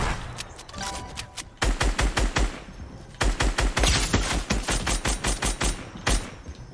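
Rapid automatic gunfire in the video game Fortnite, with two long, loud bursts of closely spaced shots after a quieter opening stretch, heard alone without talk.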